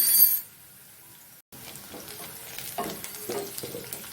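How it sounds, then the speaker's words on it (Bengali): Onion frying in a pan and being stirred, a near sizzle broken by a short gap, then scraping spatula strokes over the hiss. "পেঁয়াজটা হালকা ভাজা ভাজা হয়ে গেছে।"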